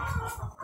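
Brahma hens and a rooster cluck in their pen, a brief, low, throaty burst of close clucking with no voices.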